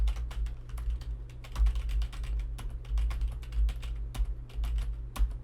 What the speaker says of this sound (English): And then here's me pressing a couple of keys.